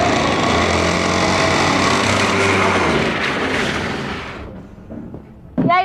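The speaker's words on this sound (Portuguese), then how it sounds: "o motor tá rajando" A motor tested during a materials-testing session runs loud and steady for about four seconds, then sputters down with uneven bursts before a sharp final rev.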